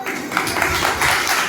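An audience at a local event in Gunnour, Sonipat applauding, a dense, even wash of many hands clapping close by for a brief moment, with no clear voices over it.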